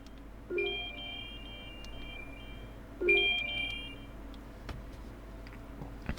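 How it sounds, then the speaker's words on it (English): A phone rings after Find My Phone is triggered on a Garmin Forerunner 70 watch, giving two separate bursts of bright electronic ringtone about two and a half seconds apart in an otherwise quiet room. "our phone is ringing"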